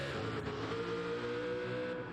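A GR2 race car engine in a racing video game drones at high revs on the Nürburgring Nordschleife, a steady buzzing roar with shifting pitch, fairly quiet and continuous.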